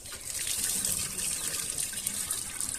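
Water poured into a pump motor at a village pond, a steady close trickling and splashing stream that runs without a break.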